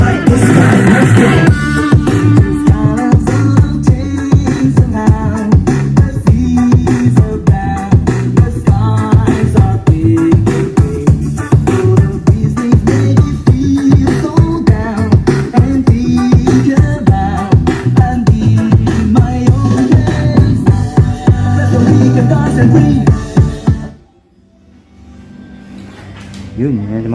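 Loud music with a heavy beat and bass plays steadily from a Sonora A212 Bluetooth speaker box, filling the space, then stops suddenly near the end.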